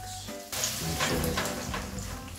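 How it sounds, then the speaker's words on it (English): Prawns with garlic in a hot pan on turned-up heat give a loud, steady sizzle and frying hiss that swells as they hit the pan and are mixed, with no voices. "turn the heat up a little bit and then get our prawns in. Give them a good mix."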